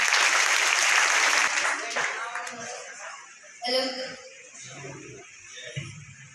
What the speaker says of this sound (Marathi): टाळ्या वाजवा दर्शक